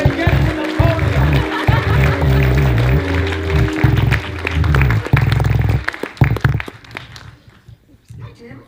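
Applause from a theatre audience at a New York awards show, dense clapping that stays steady for several seconds before thinning out and fading to scattered claps.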